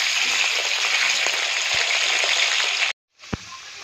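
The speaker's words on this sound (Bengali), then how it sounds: "এই যে তেল দিয়ে দিল, এখন আলুটা ভেজে নেবে।" Potatoes fry in oil in a wok with a loud, steady sizzle that cuts out briefly and then resumes, with a couple of soft clinks from stirring.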